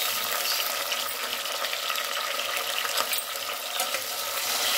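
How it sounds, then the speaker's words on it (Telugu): Green chillies and tomatoes fry in a pan for a chicken gongura dum biryani, a steady close broadband sizzle running throughout with faint stirring, and no talk. "టమోటాలు ఇలాగా పూర్తిగా వేగినాక మెత్తగా వేగిపోయింది"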